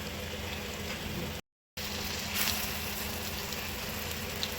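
Malpua batter of jaggery, banana and wheat flour fries on a nonstick tawa, giving a steady, close, even sizzle and crackle with a brief gap partway through and no talking.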